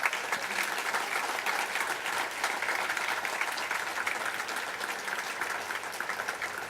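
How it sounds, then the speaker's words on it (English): An audience at an outdoor Veterans Day ceremony in Anaheim breaks into sustained applause, a dense, even patter of many hands clapping for several seconds at moderate distance. "Let's give him a round of applause,"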